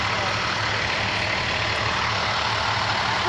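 A big truck maneuvers close by, its heavy engine a loud, steady low roar with broadband hiss throughout, no distinct beeps or breaks.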